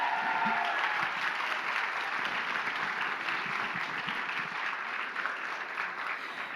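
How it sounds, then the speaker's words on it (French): Sustained applause from an audience at a cosplay performance contest, dense and steady clapping filling the hall throughout, with a faint voice heard briefly at the start. "on l'applaudit encore bien fort."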